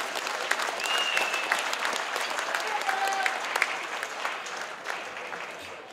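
A crowd claps steadily for a rautalanka band at a 2017 show in Nastola, with a dense, sustained applause, a couple of brief whistles rising over it, and the clapping holding strong throughout.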